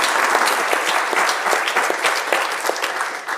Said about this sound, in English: let's give him a round of applause for his years of service.